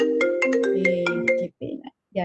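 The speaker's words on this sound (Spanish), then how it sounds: "no falta el teléfono que suena" Mobile phone ringtone going off during a lecture, a loud melodic electronic tune of repeated chiming notes, then cut off, followed by a couple of brief speech-like bursts.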